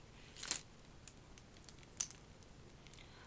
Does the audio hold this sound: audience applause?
no